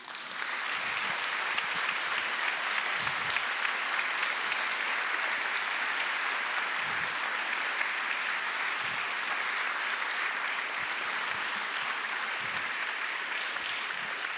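A large audience claps steadily and evenly for a long stretch at a University of Udine gathering, a sustained wash of applause with occasional low bumps beneath.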